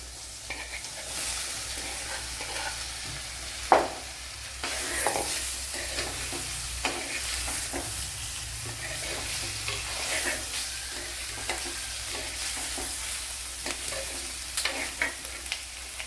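Sardines sizzle in a hot pan for a Kerala-style fish curry, a close, steady crackling fry broken by stirring scrapes and one sharp clank, with no talking.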